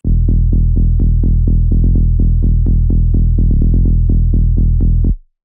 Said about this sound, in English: So this is how the bass line sound